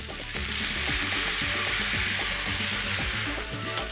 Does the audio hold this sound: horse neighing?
no